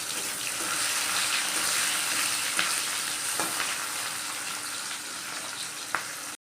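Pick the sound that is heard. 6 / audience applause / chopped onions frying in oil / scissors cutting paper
chopped onions frying in oil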